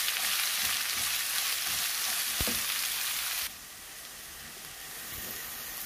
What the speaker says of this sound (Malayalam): സവോള ഒന്ന് നന്നായിട്ടൊന്ന് വഴന്ന് കിട്ടണം.